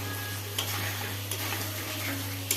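Chicken cooking in its own juices is stirred in a pan, producing a constant close sizzling hiss broken by a few brief scrapes, over a low steady hum.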